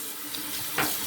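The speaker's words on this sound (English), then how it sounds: "All right, cold water rinse." A tap runs water into a sink for a cold rinse during a wet shave, giving a steady, hissing splash close by that swells briefly near the end.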